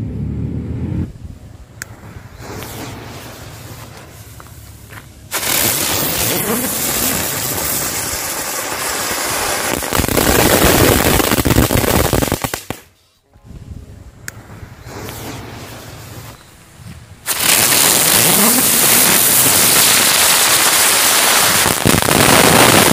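Four lotus flower spinning firecrackers lit at once, giving a loud, sustained hissing roar that cuts in and out in long bursts, close by, with no talk.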